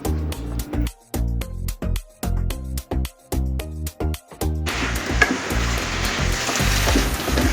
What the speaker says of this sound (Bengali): এখন হচ্ছে উল্টিয়ে পাল্টিয়ে ভালো মতন হচ্ছে মশলার সাথে আমি তরকারিগুলো ভালো মতন মিশিয়ে নিচ্ছি